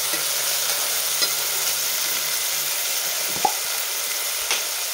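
Tomatoes fry in a pan for masala rice, sizzling in a constant loud hiss with a few scrapes and taps of a spoon stirring them, and no one speaking.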